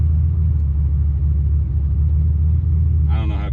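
A modified turbocharged Chevrolet Silverado pickup rumbles loud and steady in first gear as it starts to pull, deep low drone throughout, with a brief higher whine and spooling burst near the end.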